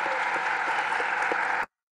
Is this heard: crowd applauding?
yes